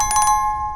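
Notification bell sound effect, a quick bright ringing chime with a few rapid pulses that rings on briefly and fades.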